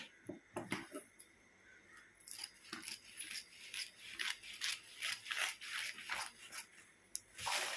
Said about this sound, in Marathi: मी बारा इंच आपण हे आता कापून घेऊया